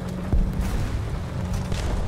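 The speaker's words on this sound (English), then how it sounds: "I just hit the ammunition stowage in the back and he goes down as well" In War Thunder, a tank's rear ammunition stowage detonates: a deep, heavy boom early on followed by a rumbling, roaring low-end wash that lingers throughout.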